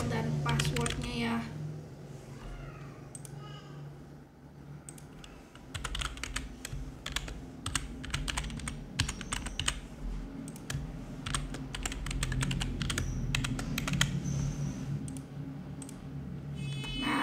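Rapid bursts of keystrokes clatter on a computer keyboard as an email address and password are entered, with irregular clusters of clicks and pauses and a steady low background hum throughout.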